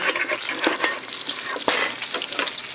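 Lobster cooking Haitian style in a pan, a continuous sizzle and bubbling with scattered sharp clicks and scrapes from stirring, close and fairly loud, without talk.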